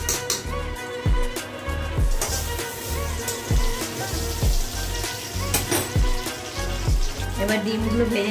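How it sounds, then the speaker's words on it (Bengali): Three eggs sizzling and frying in a pan of spices over a low gas flame, with a steady crackling hiss and sharp spattering pops recurring close by throughout. "এবার ডিমগুলো ভেজে নেব। ডিমগুলো দিয়ে দিলাম, 3টে ডিম দেব।"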